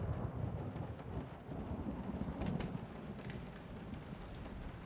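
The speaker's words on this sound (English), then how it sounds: "That rain sound was starting to get to me." Rain with rumbling thunder in the horror game Layers of Fear, a steady dense wash of rainfall under a low rolling rumble, with a few sharper crackles partway through and no talk.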